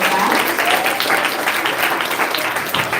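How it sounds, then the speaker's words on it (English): Dense, sustained applause from an audience at a school Year 6 transition ceremony for girls, a full steady wash of clapping that stays loud from start to finish with no gaps. "I think Misbah deserves a round of applause for that."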